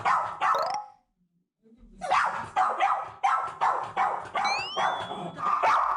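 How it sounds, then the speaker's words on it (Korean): A dog barks repeatedly at the front door of a home, a run of loud, close barks after a brief pause, with a few higher yips in between. "현관 앞에서 짖는 걸 보니 집에 누가 오셨나 본데요."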